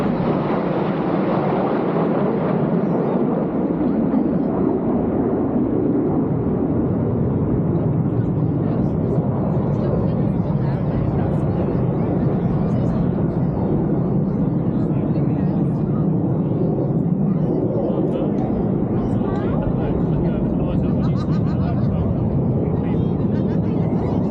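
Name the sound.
RAF Red Arrows display jets flying overhead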